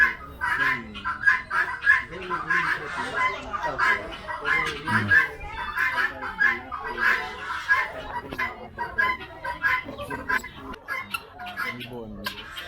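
Chickens cluck and squawk at an animal farm in a busy run of short, irregular calls. People talk over the birds throughout.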